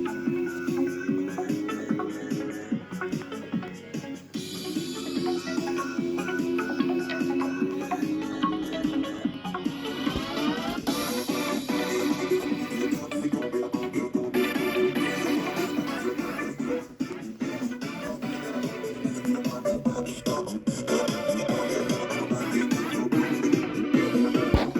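Music plays from speakers built into a Splatoon 3 Octobot cosplay costume, a continuous layered electronic track at moderate volume with no talking.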